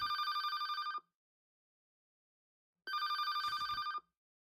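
Phone ringtone in a yandere video game, two loud electronic ring bursts of about a second each separated by a pause of silence, close and alone.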